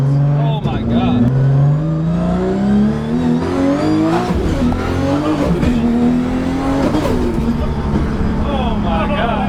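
Rotary-engined race car revving hard on a dyno, a loud continuous high-pitched wail with rising and falling pitch sweeps, people talking over it.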